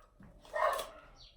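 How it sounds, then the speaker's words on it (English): A single short dog bark rings out at a distance outdoors, faint and brief, with otherwise quiet surroundings. "There's a dog barking outside."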